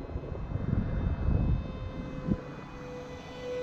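A radio-controlled F-14 Tomcat model jet at full throttle on its maiden flight makes a steady airborne engine roar that swells and fades slightly as it passes, loud and continuous with no talk.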